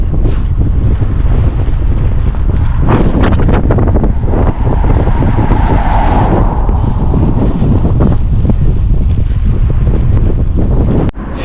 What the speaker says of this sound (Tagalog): Grabe yung hangin, nakakalaspag.